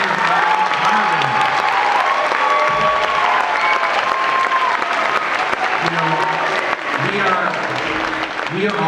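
Sustained applause from a large crowd for a high school honor band concert, steady clapping filling the space with scattered cheers, continuing throughout at a loud, even level.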